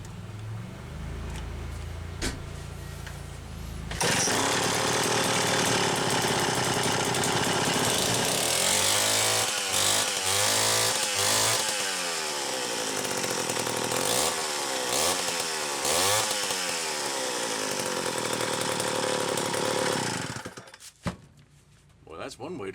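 A Stihl C-52 chainsaw with a rebuilt carburetor and stack muffler starts up and runs loud and close for about sixteen seconds, its engine note rising and falling through repeated revs before it cuts off.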